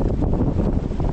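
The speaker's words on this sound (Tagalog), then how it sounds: "Pero lakas ng ulan" Strong wind buffets an open fishing boat at sea during heavy rain, a dense, steady roar that fills the short moment with no voices.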